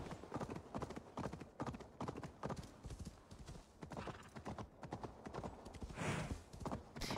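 Trotting hooves of a ridden horse in Assassin's Creed Valhalla, the seer's mount in the cold north, beat in a fast, even clip-clop close up for the whole stretch, with a faint neigh and a slight surge near the end.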